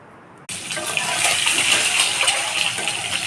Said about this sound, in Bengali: এখন ডিমগুলোকে আমি লাল লাল করে ভেজে নেব